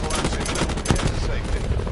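Rapid gunfire in the Call of Duty Blackout video game, a loud, continuous burst of shots with a heavy impact near the middle, sounding close and dense throughout.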